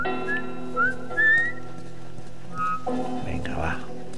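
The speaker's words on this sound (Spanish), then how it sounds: "Estoy silbando." A character in the video game The Last of Us whistles a short, wavering melody of rising notes, close and clear over a low game-ambience drone, followed by muffled movement sounds.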